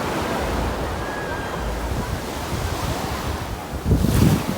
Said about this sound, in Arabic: سامعين صوت البحر